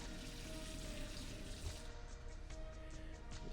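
Dirty water poured out of a container while cleaning water-damaged baseball cards, a continuous quiet splashing rush that thins toward the end, with a few drips and no speech.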